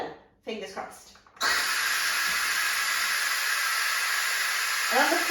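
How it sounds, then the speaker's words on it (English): After a brief spoken moment, an Instant Pot pressure cooker switched from seal to vent releases steam in a sudden loud, steady hiss that holds for several seconds, with a voice returning faintly at the end. "flick the switch from seal to vent"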